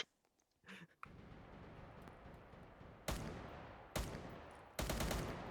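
Galil rifle fire in a Lego shooter video game: three sharp, loud single shots spaced about a second apart, each with a short trailing decay over steady background ambience, with no talk.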